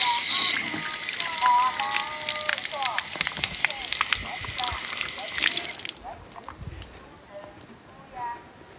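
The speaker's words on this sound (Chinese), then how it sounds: "等一下，我洗一下手。" Water runs steadily from a tap as someone washes their hands, a continuous rushing splash with talking over it, then the flow stops abruptly, leaving quieter room sounds and further speech.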